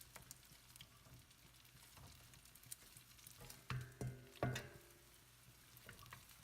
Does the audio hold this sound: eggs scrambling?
yes